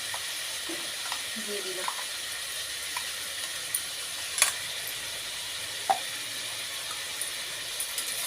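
Ginger, garlic and chili paste sizzles in hot oil, a steady close hiss with scattered stirring scrapes and small clicks, while a voice speaks briefly.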